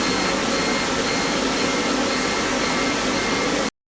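Laser hair removal machine with cold air conditioning blowing at full strength, a constant loud hissing whoosh of air that holds steady and then cuts off abruptly near the end.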